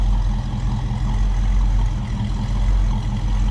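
A 1937 Ford Deluxe Tudor slantback street rod idles steadily, a continuous low, even engine rumble heard close with no talk over it.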